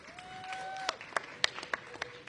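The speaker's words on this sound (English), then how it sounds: "A round of applause for Dorothy Casterline." Scattered clapping at a university commencement ceremony, thin and uneven with a few sharp louder claps standing out over a quiet hall, while a faint tone lingers early on.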